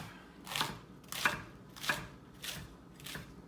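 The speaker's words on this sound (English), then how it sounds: "and then just cut it into little ribbons" A knife slices radicchio into thin ribbons for a salad, making five crisp, evenly spaced crunchy cuts on a board, close and clear with no talk.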